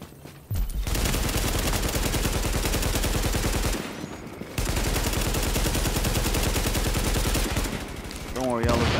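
Incendiary bullets fired in the Tom Clancy's The Division video game: loud, rapid automatic gunfire in long continuous bursts, with a brief pause midway before the firing resumes.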